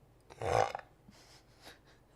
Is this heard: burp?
yes